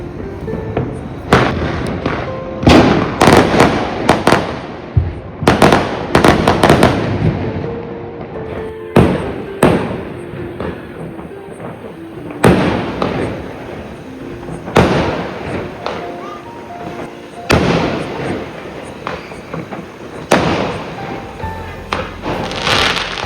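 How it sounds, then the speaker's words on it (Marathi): Firecrackers and fireworks bursting on New Year's Eve during a night party, a long run of loud sharp bangs and crackling volleys at irregular intervals, some close and some more distant, over a steady background din. "सगळीकडे फटाके पण फुटते तुम्हाला आवाज पण येत असेल"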